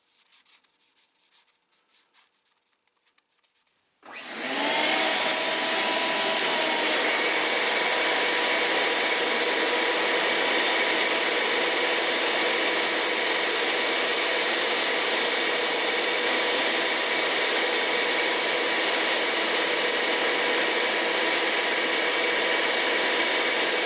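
A Shopsmith belt sander starts after a few seconds of quiet handling and then runs continuously, its belt grinding a tool held in a fixture with a loud, steady abrasive rasp that holds unchanged to the end.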